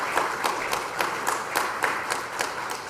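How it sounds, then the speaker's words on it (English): Conference attendees at a hybrid public policy meeting applaud a sponsor, a steady wash of clapping with a few sharper, louder claps standing out at a loose, regular pace. "If I could have a round of applause."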